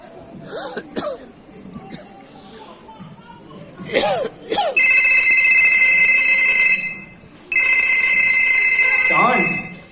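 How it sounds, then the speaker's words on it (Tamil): Phone alarm ringing in the morning, a loud electronic trill that starts after some coughing and voices, cuts out briefly, then rings again steadily before fading. "அஞ்சரை மணிக்கு அலாரம் வச்சிருக்க"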